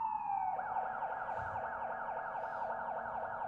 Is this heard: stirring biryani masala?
no